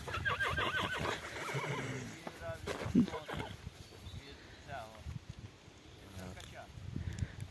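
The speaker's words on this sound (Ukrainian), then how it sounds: "Ці коні." Horses, including a grey filly, whinny and neigh nearby on a mountain pasture while people talk over them, with some hoof shuffling and rustling in the background.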